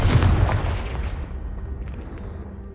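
A Confringo blasting spell bursts in Hogwarts Legacy, one heavy booming explosion up front that rumbles and fades away over a couple of seconds.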